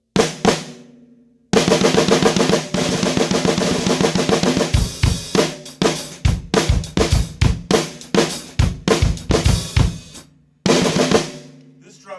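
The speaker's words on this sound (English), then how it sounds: "this is the sound of this drum" A Ludwig Acrolite snare drum with a diecast rim and a coated head with a taped-on zero ring is struck up close, first in sustained rolls and then in crisp single hits with short silent gaps between bursts.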